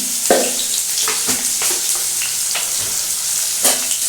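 Chopped onions fry in a pan with a little sugar while being stirred for a mutton curry. The loud, steady sizzle is broken by several sharp scrapes and clicks of the spoon against the pan.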